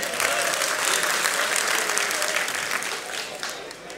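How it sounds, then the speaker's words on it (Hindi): Audience at a mushaira, an Urdu poetry gathering at Awan-e-Ghalib, breaks into dense, steady applause that stays loud throughout and eases slightly near the end. "एक बार ताली बजाइए"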